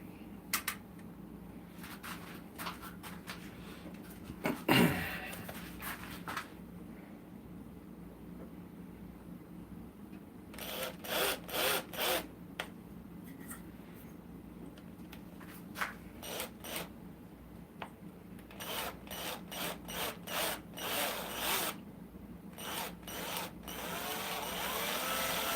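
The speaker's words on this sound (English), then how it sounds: "I gotta drill a hole in it for the string" A small power drill bores a hole through a toy spinning top for its launcher string, running in repeated whirring bursts against a quiet room background.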